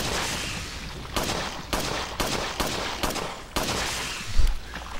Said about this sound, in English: God, look how many times I'm shooting this thing.